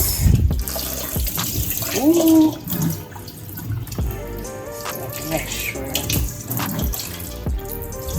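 Tap water running into a sink while a goat head is rinsed for Jamaican goat head soup, a continuous splashing flow with clatter and handling noises, as someone speaks briefly over it.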